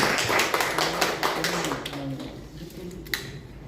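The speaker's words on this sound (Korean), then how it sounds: "박수 한번." Applause from an audience at a Korean talk event about North Korea, a dense patter of clapping that fades out over a few seconds.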